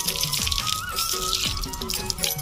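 Water splashing and trickling steadily at a temple entrance where devotees sprinkle it on themselves before going in, a close, continuous wet patter with a faint ringing tone.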